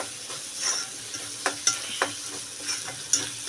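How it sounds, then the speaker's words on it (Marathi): A spatula stirs capsicum with red chili powder in hot oil in a pan for a potato and capsicum dish, giving a close, steady sizzle broken by a few sharp scraping strokes, with no voices. "सगळं छानपैकी आपण तेलावरती परतून घेणार आहोत"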